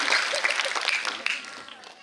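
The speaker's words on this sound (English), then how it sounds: "Let's give a big round of applause once again for her." Audience applause at a St James School ceremony, a short burst of scattered clapping that fades toward the end, with voices mixed in.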